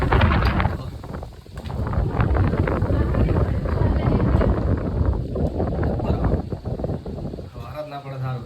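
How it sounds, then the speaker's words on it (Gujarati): Strong cyclone wind buffets the microphone outdoors in Gujarat, a loud continuous roaring rush with gusts throughout, briefly easing near the end. "દોસ્તો તમે જોઈ શકો છો બહાર કેટલો પવન ઉડ્યો છે."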